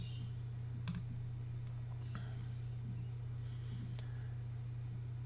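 Faint mouse or key clicks come sparsely while a Twitter account is being created, a few sharp taps scattered over a steady low electrical hum.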